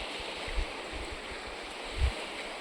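A village river flows fast with a steady rushing wash, plus a couple of soft low thumps, close and unbroken, no voices.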